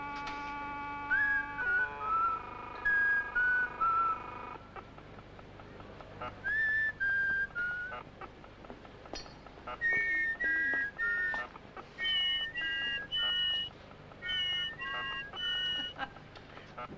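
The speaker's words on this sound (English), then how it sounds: "You know how to whistle, don't you?" A person whistles a simple tune in short melodic phrases with brief pauses between them, clear against a quiet background.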